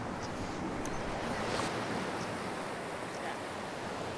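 Rushing river in snowy Lyngen, Norway, a broad steady roar of water mixed with wind buffeting the microphone, constant and moderately loud with no talking.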